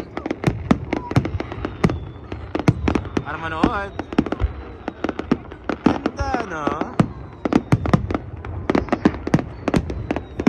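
Rapid bursts of fireworks crackling and popping repeatedly at a Liberation Day display in Khiran, Kuwait, with a crowd talking and cheering underneath the explosions.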